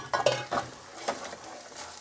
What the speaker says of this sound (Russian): Лопаткой все быстро соскребаем.